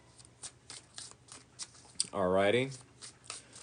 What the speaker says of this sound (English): Here is the bridge shuffle.